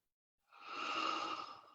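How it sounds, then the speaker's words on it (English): A single long, deep breath drawn and released to relax during a guided meditation, close and soft, starting after a moment of silence and slowly fading. "take a few deep breaths first to relax"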